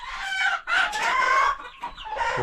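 A rooster crows loudly in several long, strained bursts, with another bird calling close by, outdoors by a creek.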